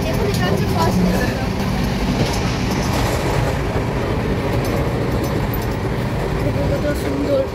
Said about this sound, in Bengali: এখন আমাদের ট্রেনটা কত ফাস্ট যাচ্ছে।